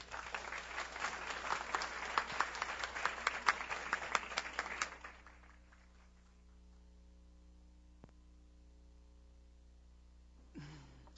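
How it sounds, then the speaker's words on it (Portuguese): An audience at an evening philosophy talk claps in welcome for the speaker, dense applause for about five seconds that then dies away into a quiet room with low mains hum. "vamos receber um aplauso particularmente de boas-vindas à nossa palestrante de hoje"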